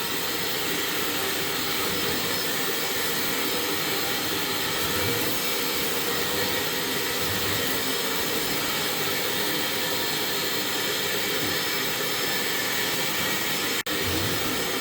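A carpet cleaning machine runs with a loud, steady whooshing roar, like a strong vacuum, as dry strokes are made across the carpet. The noise holds constant throughout, with one sharp click near the end.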